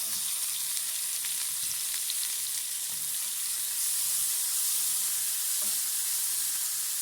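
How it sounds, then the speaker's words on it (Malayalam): Chopped tomatoes sauté in a pan for tiffin sambar, giving a steady, close hiss of frying with faint stirring clicks throughout and no voices. "ഇതിലേക്ക് അരിഞ്ഞു വെച്ചിട്ടുള്ള തക്കാളി കൂടി ചേർത്ത് നമുക്കൊന്ന് വഴറ്റിയെടുക്കാം"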